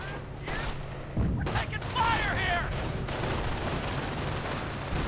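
In a World War II strategy game battle, machine-gun fire rattles in rapid bursts amid scattered rifle shots and explosions, with a commentator talking over the combat.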